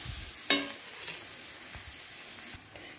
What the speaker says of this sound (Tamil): அதையும் சேர்த்து நல்லா வதக்கலாம்.